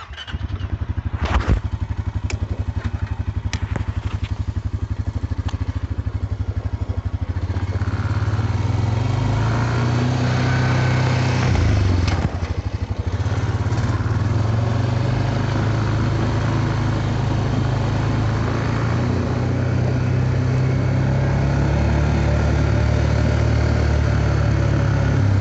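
A four-wheeler engine runs steadily and loud while towing a wagon trailer down a lane, close by the whole time, its drone shifting a little as it moves.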